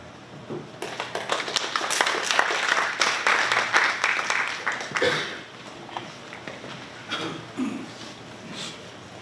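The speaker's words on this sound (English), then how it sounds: "May I ask that we keep it again in the round of applause" A room of attendees at a road infrastructure project meeting breaks into applause that builds quickly, holds for several seconds, then fades to scattered claps and faint murmurs.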